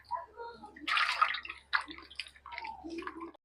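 Cut potatoes are rubbed and rinsed by hand in a bowl of water for French fries, giving close, quiet splashes, sloshes and drips in uneven bursts, with a voice speaking between them.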